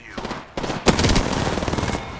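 Rapid automatic gunfire in Apex Legends crackles in a dense burst lasting about two seconds, loud and close after a brief quieter lead-in.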